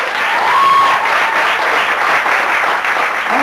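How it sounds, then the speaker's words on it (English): A high school cast party crowd gives a loud, full round of applause, with dense clapping sustained throughout and a faint whistle or cheer near the start. "have a round of applause for a wonderful subject"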